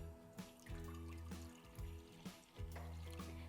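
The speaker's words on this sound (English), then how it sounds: "you're going to add in your milk" Milk poured into a large saucepan makes a faint, continuous liquid splashing and gurgling, quiet and close, with no talking.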